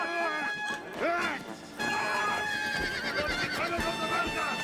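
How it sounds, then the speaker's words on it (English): Horses whinnying and neighing in a period TV drama, several high calls over clip-clopping hooves and a busy battle-like background, with a voice talking over them. "Those poor horses."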